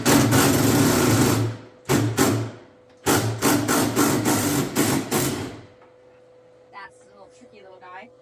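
Bursts of a power driver buzzing through a long socket extension as 7mm screws are backed out on a 2008 Ford F350 Super Duty, several loud whirring runs with short pauses, then quieter handling and a voice.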